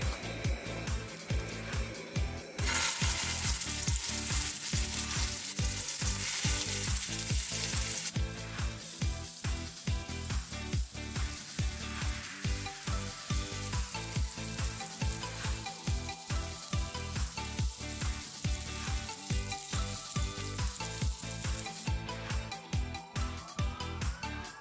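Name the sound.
meatballs frying in olive oil in a non-stick skillet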